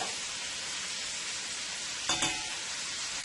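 Vegetables sautéing in a pan with vegetable bouillon, a steady hiss of sizzling throughout with a brief clatter of stirring near the end.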